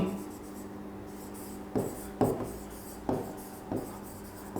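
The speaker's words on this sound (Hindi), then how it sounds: "शॉर्ट फॉर्म लिख रहा हूं" Pen or marker strokes write short-form names in a notebook or on a board, a series of soft scratching taps in uneven bursts, close and fairly quiet, with a faint room hum between strokes.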